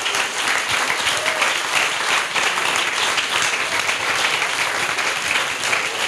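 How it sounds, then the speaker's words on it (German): Loud, dense applause from an audience at the closing presentation of a youth hackathon in Cologne, continuous clapping holding steady throughout. "Für die einen herzlichen Applaus."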